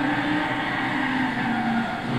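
Mazda RX-8 Type S with its rotary Wankel engine fishtailing in Gran Turismo 6, a steady loud engine drone with tyre squeal running through the whole stretch, no voices.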